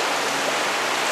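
A spring creek running high like a river along off-road trails, heard as a steady, dense rush of flowing water with no talk over it.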